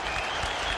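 Applause rises from a football stadium crowd at a Paraguayan league match between Club Libertad and Recoleta, a continuous wash of distant clapping in a short burst with no gaps.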